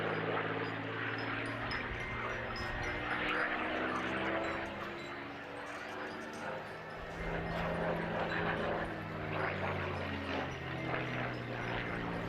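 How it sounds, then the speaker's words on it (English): A Supermarine Spitfire Mark 9, RR232, flies a display at a D-Day 80 airshow, its piston engine a loud, continuous rumbling drone that swells and shifts in pitch as the plane passes. "So now we've got Neil Parkinson displaying Spitfire RR232."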